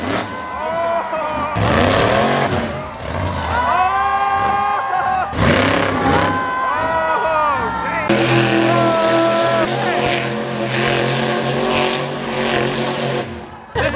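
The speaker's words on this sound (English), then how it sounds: "The monster trucks are about to go crazy." Monster trucks at a live show roar loudly with revving engines that rise and fall in long, wavering pitch sweeps, with a crowd and talk mixed underneath.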